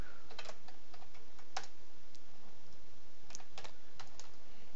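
Computer keyboard typing runs throughout in quick irregular bursts of soft clicks, close and fairly quiet, with no talking.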